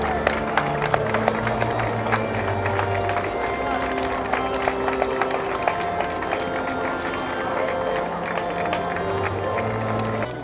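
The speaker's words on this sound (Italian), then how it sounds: "I liguri tradizionalmente chiusi si lasciano così andare in un lungo applauso." A crowd of faithful in a Genoa square gives Pope Benedict XVI a long, sustained round of applause, dense clapping blended with crowd noise and a public-address voice speaking over it throughout.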